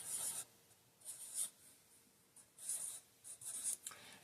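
Pen or pencil strokes scratching across paper as an energy level diagram is drawn by hand, in short bursts of faint, crisp scratching separated by pauses, with no voices.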